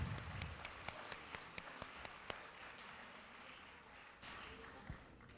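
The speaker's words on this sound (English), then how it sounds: "how about another round of applause for those teachers" Applause for teachers at a school rally, a soft, distant spread of clapping with a few sharper individual claps standing out near the start, under a quiet voice.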